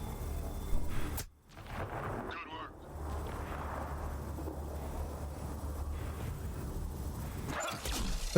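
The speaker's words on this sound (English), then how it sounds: "No, that's just a dog over there." Dog barking in the video game Mass Effect Andromeda, a few scattered barks at mid distance over constant rumbling game ambience and occasional impact sounds.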